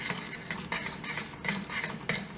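A spoon stirs a coffee mixture in a cup, clinking steadily against the sides in repeated close scrapes and taps with no talking.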